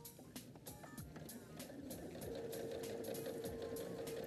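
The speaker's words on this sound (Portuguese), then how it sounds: "Porque a sapatilha da máquina, ela vai funcionar como se fosse um guia de costura." A sewing machine stitches a fabric toiletry bag, its presser foot guiding the seam. The needle gives a steady rapid mechanical clatter with regular ticking clicks and a faint whine that runs continuously at close range.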